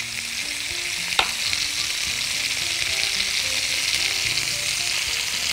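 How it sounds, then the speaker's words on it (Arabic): Roast beef fries and is stirred in a pan, a steady dense sizzle with scraping stir strokes and one sharp clink near the start, no talking. "ونكمل تقليب لغاية ما تتحمر الروستو عندنا كويس جدا"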